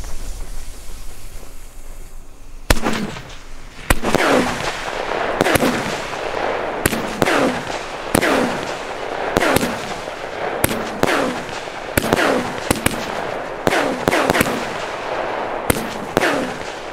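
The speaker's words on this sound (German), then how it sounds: "Das ist ein sehr, sehr, sehr lustiger Name für eine Batterie. Und ja, hier auch 16 Schuss im Kaliber 25 mm." Pyroland Mettwurstspatz firework battery firing 16 shots of 25 mm calibre, a series of sharp loud bangs and crackling bursts at irregular intervals of about one to two seconds, each followed by a short ringing tail.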